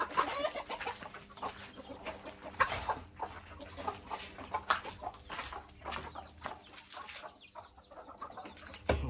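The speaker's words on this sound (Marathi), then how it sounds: "कोंबड्या सोडतोय आता," Hens let out of a poultry shed cluck busily and continuously at close range, with overlapping calls and short squawks over farmyard background noise.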